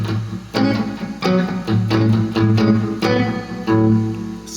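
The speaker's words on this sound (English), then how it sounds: "playing some muted power chords" Chunky, palm-muted power chords on a 1959 Fender Jazzmaster electric guitar chug in short rhythmic bursts with a few accented hits, played alone at moderate volume.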